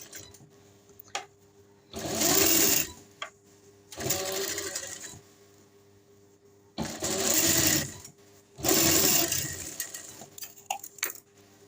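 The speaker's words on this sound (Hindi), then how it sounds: "दूसरी तरफ भी इसी तरह सिलाई लगा लेनी है" A sewing machine stitches a garment neckline, running in four short bursts of about a second each, separated by quiet pauses and light handling noises, close and clear.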